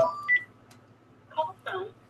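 Telephone dialing tones on a call-in line: a few short separate beeps spaced irregularly, fairly quiet against a faint hum, with no talk over them.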